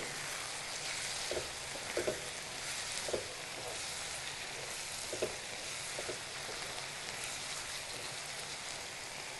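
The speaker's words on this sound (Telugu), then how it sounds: "మూత తీసేసి ఒకసారి బాగా కలపాలి కర్రీని" Steady sizzling of capsicum and tomato curry cooking in a pan, with a few soft scraping knocks from stirring at irregular moments, close and moderately loud.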